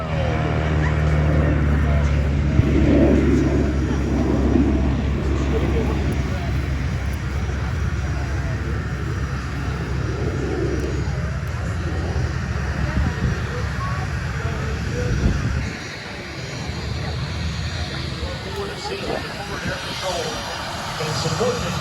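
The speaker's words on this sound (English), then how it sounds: "Each one of these aircraft are going to come by in a nice, close photo pass" Aerobatic aircraft engines droning steadily as the planes make a close photo pass at an airshow, with an announcer's voice and crowd babble throughout.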